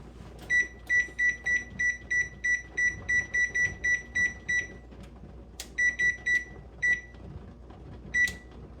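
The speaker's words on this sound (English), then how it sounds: "All right, our timer's gone off." An electronic kitchen timer beeps in a home kitchen during cranberry sauce canning: a fast run of about fifteen sharp, bright beeps, then a pause and a few shorter bursts, close and clear.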